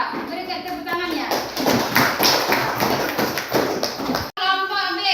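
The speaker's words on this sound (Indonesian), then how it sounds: "Berikan tepuk tangannya." A classroom applauds a student group with a few seconds of dense clapping, a brief tapping intro, and children's voices audible among the claps.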